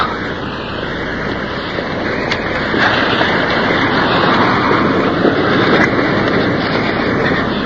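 A waterfall on a creek plunges into a deep pool, giving a steady, loud, broadband roar of rushing water that holds constant throughout with no voices.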